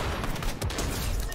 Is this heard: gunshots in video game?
yes